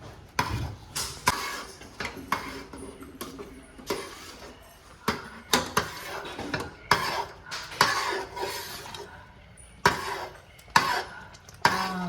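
Repeated scraping and knocking of a spoon stirring a thickening mixture in a metal pot, irregular strokes close by with faint background noise.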